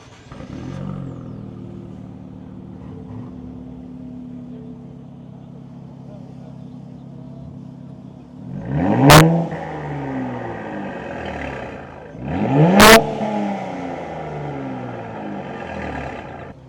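A Nissan fitted with Nismo aftermarket parts at an outdoor car show idles steadily, then its engine is blipped in two sharp revs that rise and fall, the second a longer double rev, fairly close and moderately loud.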